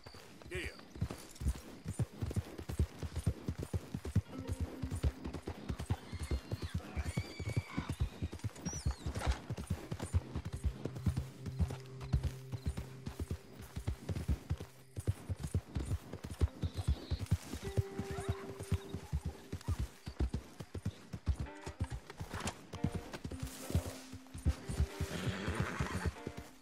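Horse hooves galloping in the Red Dead Redemption 2 game, a fast, continuous drumming rhythm that stays steady and close throughout, with a few brief tonal calls and occasional voices on top.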